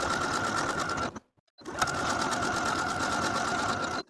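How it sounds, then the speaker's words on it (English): A sewing machine stitching buttonholes on shorts, a loud close steady mechanical whir that stops briefly for about half a second and then resumes at the same even pace. "sew both of your buttonholes in place according to the markings from your pattern piece."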